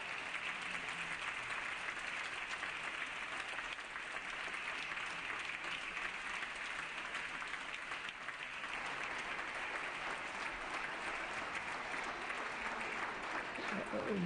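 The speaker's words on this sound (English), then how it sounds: "could we give them a big, big round of applause" A long round of applause for honorees on a state Assembly floor session, a steady, full wash of many hands clapping in a large chamber, distant and sustained throughout.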